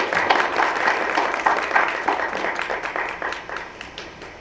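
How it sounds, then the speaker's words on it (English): An audience claps steadily for a keynote speaker at a conference, a dense and fairly close round of applause that tapers off slightly toward the end, with no voices over it. "let's welcome Professor Wang to the podium with a big round of applause"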